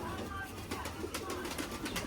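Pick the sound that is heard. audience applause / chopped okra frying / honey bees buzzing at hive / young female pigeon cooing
young female pigeon cooing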